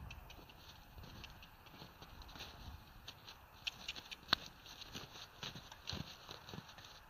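A young horse's hooves step and shuffle as a handler moves its feet, giving scattered light clip-clop taps up close with a few sharper knocks.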